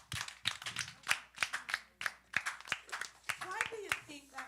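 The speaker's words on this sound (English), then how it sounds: "Give yourselves a clap." Children at a church vacation Bible school clap together in sharp, fairly regular bursts, close and lively, with voices talking and calling out between the claps.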